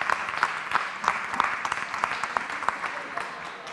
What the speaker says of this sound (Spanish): así que un nuevo aplauso para el reconocimiento también